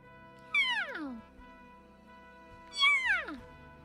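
A cat in the video game Wuthering Waves meows twice, each call a clear descending meow, separated by a pause over quiet game background tones.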